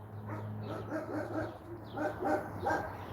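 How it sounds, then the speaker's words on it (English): Dogs outdoors bark in a series of repeated, moderately distant yaps over a steady low hum, the barks clustering in two uneven bursts with no talk over them. "They're just barking at everything."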